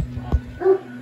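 A dog gives a single short bark, fairly close and loud, with a brief whimpering yip right after, heard alone indoors near a doorbell.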